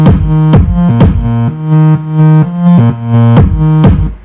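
Electro bass synth with side-chain compression pumps in a steady rhythmic pattern, loud, each note ducking and swelling on the beat with bright sharp attacks.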